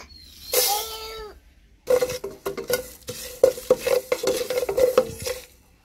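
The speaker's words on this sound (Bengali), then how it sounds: "অরবরের আচার বানানোর জন্য এখানে আমি 5 ফোড়ন নিয়ে নিয়েছি। এখানে হালকা আছে, উপকরণগুলি সব টেলে নিব।" Panch phoron spices dry roasted in a pan, with a brief shrill sound early on, then rapid close scraping stirs and clinks of a spoon on metal after a short pause.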